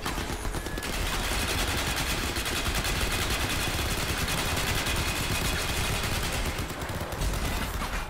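Sustained, dense gunfire pours in throughout, loud and continuous like heavy automatic weapons fire on a combat field in Crysis 3, with no talk over it.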